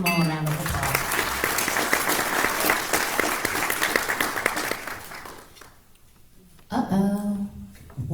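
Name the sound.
audience applause at political forum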